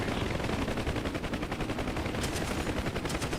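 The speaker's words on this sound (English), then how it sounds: "Contact right side, they're shooting at you." Sustained automatic gunfire aimed at an aircraft in the combat flight simulator DCS World, a dense, continuous rattle of rapid shots running the whole stretch at steady loudness with no voices.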